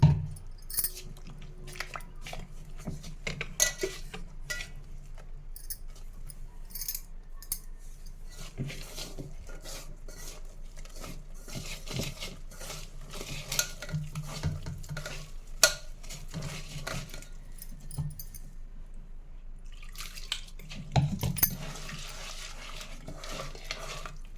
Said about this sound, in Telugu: కొద్ది కొద్దిగా వాటర్ను యాడ్ చేస్తూ మిక్స్ చేసుకోవాలండి